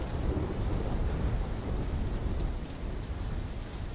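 Thunder rumbles heavily under steady pouring rain in the Call of Duty: Black Ops 3 video game, a dense, continuous roar of storm noise with no voices.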